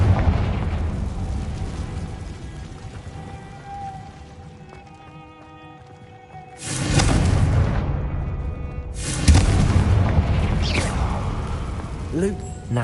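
A Confringo blasting curse explosion in Hogwarts Legacy, two loud booming bursts that erupt after a quieter stretch of ambient music and each ring out with a rumbling tail.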